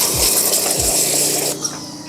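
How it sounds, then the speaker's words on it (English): A hand pump on a pressure sprayer foamer is worked in two quick strokes, each a short rising whoosh, followed by a steady hiss of pressurized air, close and loud with no talking. "So I already went ahead and pumped it a couple times."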